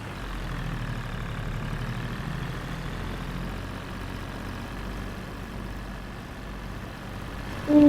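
A tractor engine labours under a heavy load, a steady low rumble holding throughout with a louder surge at the very end; no talking.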